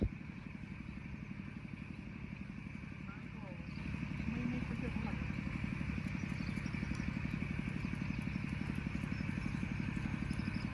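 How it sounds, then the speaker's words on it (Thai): A Kubota engine runs steadily to pump water out of a rice field, a continuous mid-pitched chugging drone at a moderate distance that grows slightly louder partway through, with no voices. "ทางด้านนี้ครับที่ได้ยินเสียง เครื่อง คูบต้าน่าจะเป็นการดูดน้ำหรือสูบน้ำออกจาก นาข้าวครับ"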